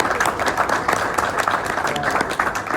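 At a Rotary Club meeting, an indoor audience breaks into dense, continuous applause that fills the room.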